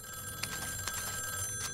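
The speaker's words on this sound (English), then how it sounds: "Phone's ringing." A telephone rings in Call of Duty Warzone's haunted Verdansk, with repeated bell bursts spaced about half a second apart under a steady hum of game ambience and some high electronic tones.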